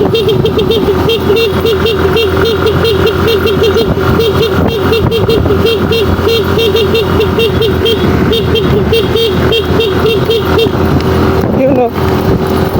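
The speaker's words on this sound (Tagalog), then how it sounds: "Haba ng binusina natin." A car horn blares in a long, continuous honk lasting most of the clip, loud and close, over steady engine noise, cutting off near the end.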